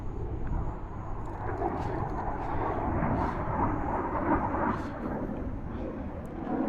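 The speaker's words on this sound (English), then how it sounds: "Oh, the fighter jet. I hear him." An RC fighter jet model roars overhead in a continuous loud, broad whoosh that swells and fades slightly, with no talking.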